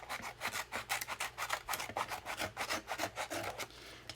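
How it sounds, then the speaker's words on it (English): Rhythmic rasping strokes from trimming the edge of a handmade junk journal cover, close and fairly quiet, a steady series of short scraping cuts with no talking. "Trim this side just a bit more."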